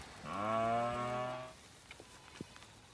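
A cow on a small farm where calves are being weaned gives one loud, drawn-out moo lasting over a second, followed by faint scattered thumps and rustling.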